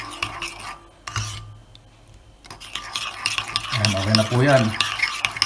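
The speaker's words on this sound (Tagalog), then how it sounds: "Haluin lang po natin itong mabuti para mag-combine po ng maayos ang ating dressing" Mayonnaise salad dressing is stirred in a bowl with brisk, wet, rhythmic scraping that grows busier toward the end, close by, with someone briefly speaking over it.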